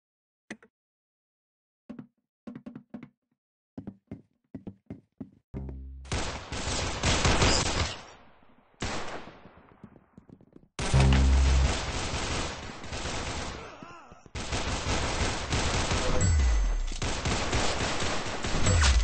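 Video game gunfire starts as scattered single shots, then builds into long, loud automatic bursts and fusillades that run almost without a break, with short pauses between volleys.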